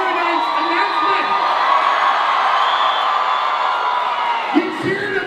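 A large audience at a Halloween Horror Nights announcement cheers, whoops and yells loudly and without a break, a dense roar of many voices close around the listener.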